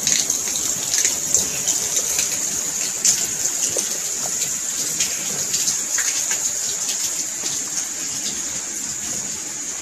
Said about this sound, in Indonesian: ini adalah yang disebut dengan pancuran emas yang berada di daerah makam di Santri